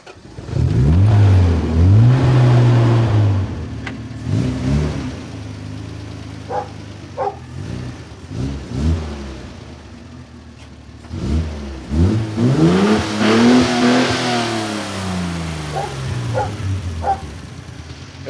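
An engine starts and runs in Niger, revving up and down loudly with rising and falling surges, and a dog barks faintly in the background.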